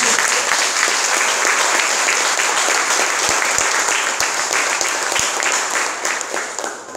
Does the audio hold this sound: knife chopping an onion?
no